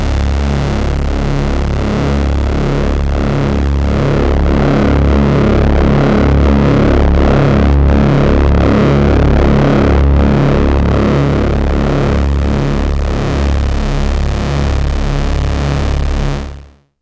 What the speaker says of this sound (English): So this is digital distortion at the oscillator level fed into the filter.